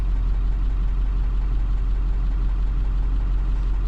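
Truck engine running while driving, a steady, noisy low rumble with a rattly texture, continuous and close with no voices.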